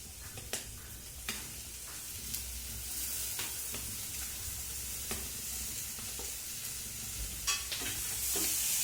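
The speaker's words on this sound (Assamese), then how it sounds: "পনীৰখিনি দি মই ভালদৰে লৰাই লৈছোঁ" Cubes of paneer stirred through dry spices and vegetables in a hot pan give off a steady, close sizzle, with occasional sharp spoon scrapes and clicks and no voices.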